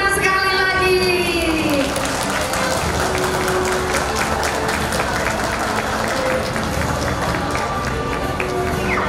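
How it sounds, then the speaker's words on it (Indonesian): Audience applauds at a kindergarten graduation ceremony in Batam, sustained dense clapping throughout with some crowd noise and a voice near the start. "Beri tepuk tangan sekali lagi."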